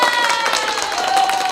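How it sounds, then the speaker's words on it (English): A studio audience claps in a brief burst of applause, with a faint tonal hum running beneath the clapping. "That deserves a round of applause"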